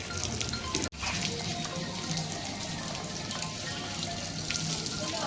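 Tap water gushing steadily from a faucet in the Bodeli area, a continuous loud broadband splashing with one brief cut-off near the start before the flow resumes.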